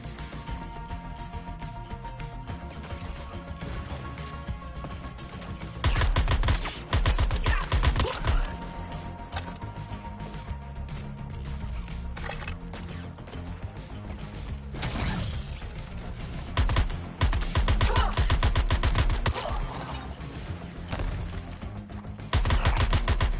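Rapid gunfire bursts from a jetpack shooter video game crash over a dense game mix, loud and close, with heavier volleys swelling in several waves.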